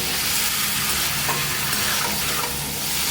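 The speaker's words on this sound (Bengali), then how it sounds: "এবার সবজি দিয়ে আমি মশলা দিয়ে ভালো করে কষাবো।" Fried vegetables and spices for lau shukto being stirred in a pan, giving a loud, continuous sizzle with steady scraping and tossing throughout and no voices.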